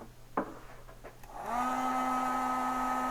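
A heat gun shrinking heat shrink tubing on the wiring of a Honda 600RR motorcycle: a few handling knocks, then the gun switches on and holds a steady whining blower hum, close by.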